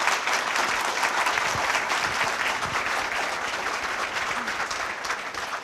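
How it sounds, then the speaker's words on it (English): An audience at a Kyoto University honorary doctorate award ceremony gives sustained applause, a dense, even wash of clapping that fades slightly toward the end. "I would like to ask everybody here to offer a very loud applause"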